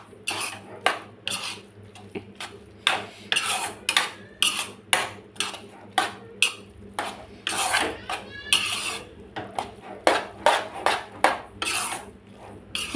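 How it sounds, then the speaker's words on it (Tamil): A utensil stirs Maggi noodles with coriander leaves in a pan, making rhythmic metallic scrapes and clinks about twice a second, close and clear, with no talking. "கொத்தமல்லி தழையை போட்டுக்கலாம். மணமாகவும் இருக்கும், நல்லா டேஸ்ட்டாகவும் இருக்கும். போட்டு இது கலக்கி வச்சுக்கலாம்."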